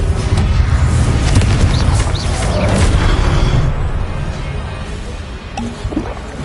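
A Confringo fire spell in Hogwarts Legacy erupts in a loud, roaring blast that rumbles heavily for several seconds before slowly easing into crackling debris.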